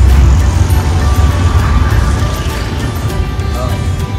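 Road traffic on a rainy day along Ghodbunder Road, a dense steady wash of passing cars and heavy vehicles with rain hiss, loud and continuous, fading slightly toward the end.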